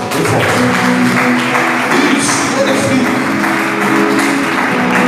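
A church congregation clapping steadily under a pastor's loud voice speaking over it, with sustained tones underneath, all close and full.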